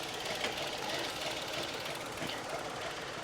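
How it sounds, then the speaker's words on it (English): A 2001 Nissan Maxima engine idling roughly, a dense steady mechanical clatter with uneven knocking pulses, close and continuous throughout. "She doesn't want to idle worth a crap."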